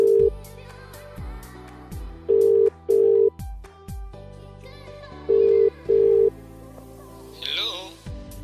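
A telephone call is dialed with a series of short, loud keypad tones. Each tone is set between clicks and handling noises and ends in a brief electronic chirp.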